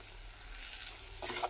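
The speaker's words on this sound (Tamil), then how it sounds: "இது கொஞ்சம் இதுலேயே கொஞ்ச நேரம் வதங்கினா போதும்." Soft, steady sizzle of vegetables sautéing in a pan, faint and close, with a short clatter of stirring toward the end; no one speaks.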